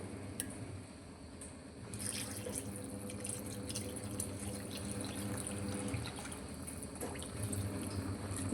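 Water pours in a steady trickling stream into masala for millet bisibele bath, close by and fairly quiet, running continuously for several seconds without voices.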